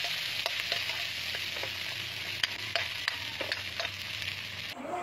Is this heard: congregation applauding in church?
no